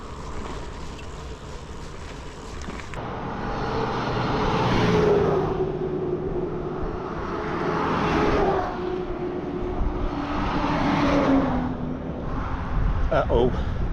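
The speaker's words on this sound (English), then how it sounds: "there's an awful lot of fire trucks, whether they're headed to a fire or coming from one" Several fire trucks rumble past one after another on a smoky road during Oregon wildfires, their engines swelling and fading in waves, with a person talking over them.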